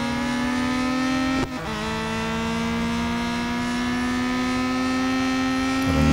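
A Nissan Skyline GTR engine in Real Racing 3 drones loud and steady at high revs, holding a sustained whine that dips sharply once, as if on a gear change, then settles and climbs again.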